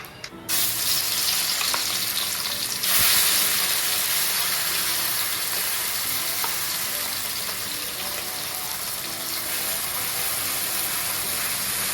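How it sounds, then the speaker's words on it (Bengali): A loud, steady sizzle of onion, garlic, ginger and tomato paste frying in mustard oil, with a sharp hiss burst near the start as the paste hits the hot oil, continuous and close with no voices. "মশলাটাকে আমি পেস্ট করে নিয়েছি পেঁয়াজ রসুন আদা টমেটো তাকে আমি এখন তেলের উপরে দিয়ে দেবো"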